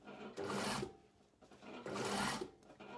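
A domestic sewing machine stitches a seam on a linen blazer in two quiet running bursts with a short pause between, the motor purring close by.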